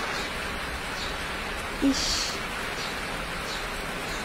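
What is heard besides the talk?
rain falling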